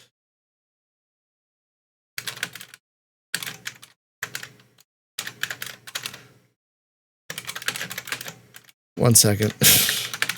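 Bursts of typing on a computer keyboard as a note is written, several short clusters of rapid key clicks separated by pauses, close and fairly loud, with a louder flurry near the end and a brief spoken remark.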